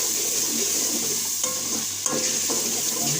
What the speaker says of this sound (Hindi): इसको अच्छी तरह से भून लेंगे, अच्छी तरह से मैश कर लेंगे, मसाला बना लेंगे।